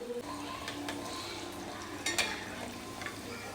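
Pieces of food fry in a shallow pan over a medium flame, giving a soft, even sizzle. Occasional light utensil clinks and scrapes come as the pieces are turned over.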